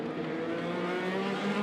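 An IndyCar race car at St. Pete accelerates hard out of a corner, its engine a loud, steady high-pitched whine with rising harmonics, close and continuous.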